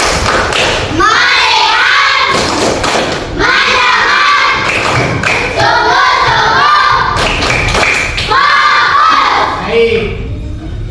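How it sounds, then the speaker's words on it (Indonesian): A school class does a rhythmic clap-and-chant focus routine, with loud, close unison children's voices shouting over sharp, repeated group claps in a steady beat. "Coba tepuk fokus."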